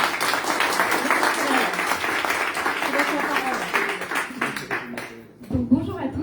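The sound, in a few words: audience applause for a speaker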